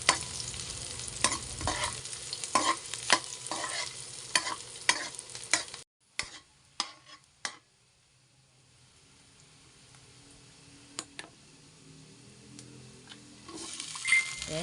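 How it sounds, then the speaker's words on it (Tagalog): Onions sautéing in a pan for adobong sitaw, a continuous close sizzle broken by regular spatula scrapes and taps, then a pause and a quieter simmering hiss before stirring resumes. "So, igisa-gisa lang natin yan hanggang sa magkulay brown yan mga beshi."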